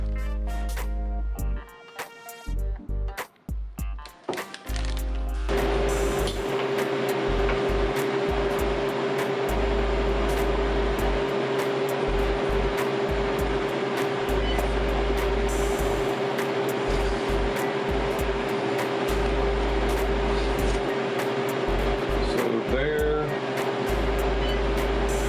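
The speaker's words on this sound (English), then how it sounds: "before we put it in the freeze dryer" A freeze dryer loaded with Schezwan chicken runs with a steady, close mechanical hum and a constant tonal whine, after a few seconds of intermittent knocks and thumps.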